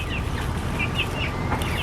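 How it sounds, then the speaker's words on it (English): Chickens cluck and chatter steadily in a backyard container garden setting, a continuous moderately loud run of short calls over a constant background hum. "these chickens be talking back"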